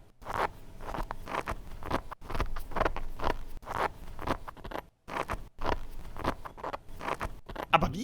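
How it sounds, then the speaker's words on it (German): Rice trickling onto baking paper, used as a rain sound effect, makes a dry, crackling patter in irregular bursts with short gaps, close and fairly quiet. "wie werde ich wohl den Sound für diese Regenszene hier erstellt haben? indem ich Reis auf Backpapier habe rieseln"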